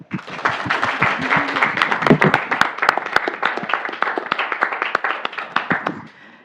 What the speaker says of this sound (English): there were many claps